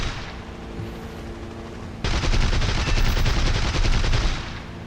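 Aircraft machine guns fire in War Thunder from a Bf 110 C-4 fighter at a Beaufighter, a dense continuous rattle that grows louder partway through over a steady engine drone.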